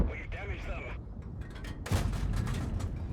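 A Churchill Crocodile tank's cannon fires in World of Tanks, a single heavy boom with a rumbling tail arriving after a voice talks over game noise.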